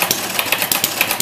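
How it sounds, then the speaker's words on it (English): A small homemade odds-and-ends engine runs close by, with the valve lifter clanking in a fast, steady rhythm over a dense mechanical rattle. "That clank clank noise you hear is the valve lifter"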